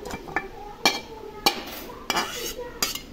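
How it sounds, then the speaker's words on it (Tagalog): A utensil stirs pancit bihon rice noodles with vegetables in a pan, about six sharp scraping clinks against the metal at a steady, unhurried rhythm, with a faint sizzle beneath. "Then, i-mix natin."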